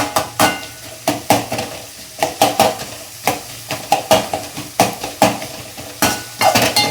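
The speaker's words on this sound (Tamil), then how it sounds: "வெங்காயம் வந்து நல்லா வதங்கணும்." Onions sautéing in oil in a pan while being stirred give off a steady sizzle, broken by regular sharp scrapes and clinks of the spoon against the pan, close and with no talking.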